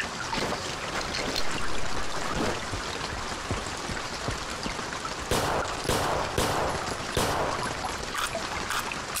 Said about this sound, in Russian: Бегу, стреляю по сторонам.